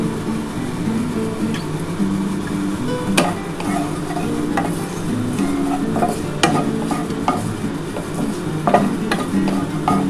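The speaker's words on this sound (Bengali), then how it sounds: "অল্প একটু ভেজে নিই তারপরে আমি মশলাটা দিয়ে দেবো" Jackfruit and chana dal fry in a pan with a steady close sizzle, broken by repeated scraping strokes of a spatula stirring through the mixture for about ten seconds, with no talking.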